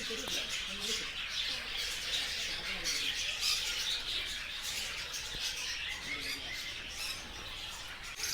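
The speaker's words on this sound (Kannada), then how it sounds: "ಇಲ್ಲಿ ನಿಮಗೆ ಲವ್ ಬರ್ಡ್ಸ್ ಮತ್ತು ಸನ್ಕೊನ್ನ ಬರ್ಡ್ಸ್ ಇದೆ" Lovebirds and sun conures squawk and chirp in an aviary, a busy chorus of shrill, overlapping calls that continues throughout at moderate distance, with a voice faintly underneath.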